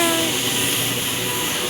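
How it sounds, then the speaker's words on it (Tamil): A train arrives at a railway platform, a steady loud rumble and hiss of rolling carriages filling the short moment without any talk. "ஒரு ட்ரெயின் வருது பாரு."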